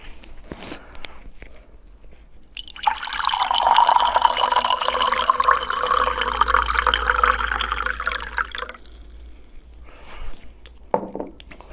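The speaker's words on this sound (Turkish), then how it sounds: "Bir de bakalım su sesini nasıl alacak." Running water from a tap or stream, picked up by an Arimic microphone, rushing steadily at close range for about six seconds, preceded and followed by faint handling noises and brief quiet.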